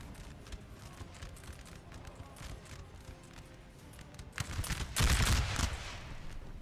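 Musket fire sounds on a Napoleonic battlefield at Auerstedt in Napoleon: Total War, a distant rattle that swells into a loud massed volley near the end over a rumbling ambience, with a voice talking beneath.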